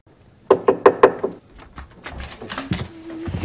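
Four quick knocks on a wooden door from a Superman film scene, a brisk evenly spaced rap followed by quieter shuffling and room sounds.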